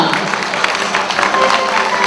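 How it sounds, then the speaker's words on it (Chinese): Dense applause from a crowd at a company's 20th-anniversary banquet as the bride and groom take the head table, many hands clapping continuously and evenly throughout, fairly loud and close. "新郎新娘先坐主桌再一次热烈的掌声。"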